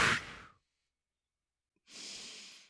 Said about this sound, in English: we're going to breathe out through our mouth, and we're going to see how quickly we can push all the air out from a full inhale